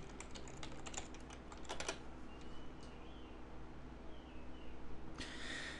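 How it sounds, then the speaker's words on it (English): Login details being typed on a computer keyboard: quick clusters of close key clicks for about two seconds, a quieter stretch over steady background hum, then another short burst of keystrokes near the end. "if I type it in correctly"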